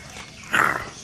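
A hyper pet dog makes one brief, close whine or low growl, a short burst rising out of quiet room noise near the middle of the moment.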